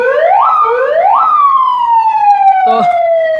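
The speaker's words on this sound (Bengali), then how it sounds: "এই গাড়িটার মধ্যে ভাই ইমার্জেন্সি হর্নেরও ব্যবস্থা আছে" An emergency horn siren on a Nissan X-Trail car wails loud and close, rising and falling in two quick sweeps before holding a long, slowly dropping tone that ends with a short harsh burst.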